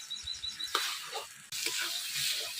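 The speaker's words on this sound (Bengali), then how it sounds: "যত কষাবো যত সময় ছ্যান আওয়াজটা যাবে না তত সময় আমি কষাতে থাকবো" Taro leaves being stir-fried in a pan for a village-style dish, giving a steady close sizzle broken by spatula scrapes and stirring. It jumps louder partway through and stays loud, with no talking.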